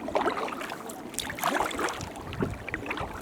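A paddle dips and pulls through water beside a canoe or kayak in autumn at Labrador Hollow, with soft splashes and swishes at a steady rhythm over light wind noise.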